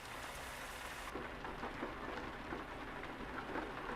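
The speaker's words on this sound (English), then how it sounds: "So you can really hear that rain hitting the cab of the truck and the windshield." Steady, dense rain drums on a truck cab and windshield in Euro Truck Simulator 2, with a continuous hiss and scattered louder drops patting the roof, close and constant with no voices.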